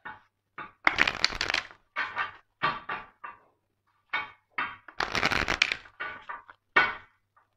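Playing cards are shuffled in repeated riffle bursts on a glass table, each bout a loud, close crackling flutter ending in sharp taps as the deck is squared, with short pauses between rounds.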